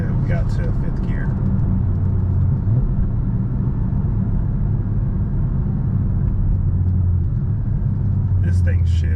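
A car engine rumbles steadily as it pulls up through the gears toward fifth, loud and close from inside the vehicle, with a constant low drone and no speech.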